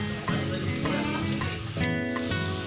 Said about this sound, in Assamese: এয়া মাংস বনাইছে আৰু এতিয়া পিঁয়াজ দিছে তেলত